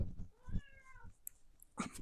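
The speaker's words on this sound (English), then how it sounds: "don't meow at me, and Creamsicle Cat steals your chair." A cat meows a few times, drawn-out tonal cries close by, with brief thumps and rustling between calls.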